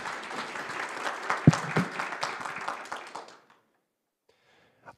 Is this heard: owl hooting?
no